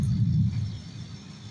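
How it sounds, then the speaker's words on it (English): Low, steady thunder rumble on a rainy night in uptown Tampa, a deep continuous roll that swells at the start and slowly fades, heard alone without talk. "Listen to that beautiful sound of thunder."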